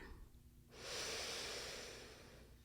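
One long, deep breath during a yoga class, close and airy, rising into a broad hissing inhale that swells and slowly tapers, alone in a quiet room.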